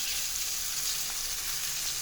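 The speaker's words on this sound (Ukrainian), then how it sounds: "Обсмаження на швидкому полум'ї з обох сторін." Loud, even sizzle of flour-breaded bream frying over a high flame in a hot cast-iron pan, a continuous close hiss with no voices.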